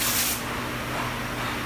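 Sensitizer fog sprayed over a part during a spray chrome coating process, a short hissing burst at the start that fades to a steady soft aerosol hiss.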